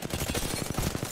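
Rapid, steady automatic gunfire from Wraith's weapon in Apex Legends rattles continuously in a dense, even rhythm, close and fairly loud.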